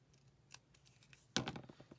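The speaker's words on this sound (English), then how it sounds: "So I do have to cut that off a little bit also." Scissors snip through paper while making a handmade Mother's Day card, a few faint light cuts followed by one louder, crisp snip and softer trailing rustles, close and quiet with no talk.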